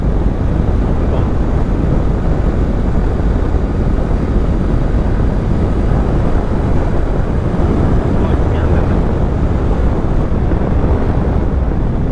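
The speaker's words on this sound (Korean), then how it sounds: "와 바람 오진다" Strong wind buffets the microphone steadily while riding a Honda Rebel 500 motorcycle on a long-distance ride, a loud continuous roar with no break.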